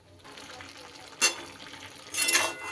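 A broccoli dish is stirred and mixed in a pan, producing two short scraping, sizzling bursts over a low kitchen background, the second longer than the first.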